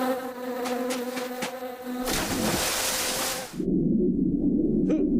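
Bees buzz around a beehive in a loud, droning hum, and a rushing wash of noise and low rumble then takes over.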